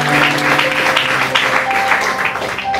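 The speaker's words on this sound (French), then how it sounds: "Est-ce qu'on peut acclamer les seigneurs pour pasteur Serge?" Church congregation at a Sunday service clapping and cheering together to welcome a pastor, a dense, continuous wash of applause filling the room with a steady hum underneath.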